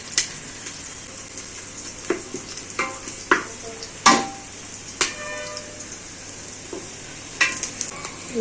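Onions and tomatoes sautéing together in a pan for chicken biryani, with a soft constant sizzle broken by scattered spatula clicks and scrapes at irregular intervals, close up and without speech.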